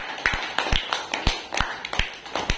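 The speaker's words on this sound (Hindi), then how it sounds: "वेरी गुड, ताली बजा दो भाई" Schoolchildren clapping for a classmate during a classroom word game, a quick burst of sharp, uneven hand claps close by, with no talking.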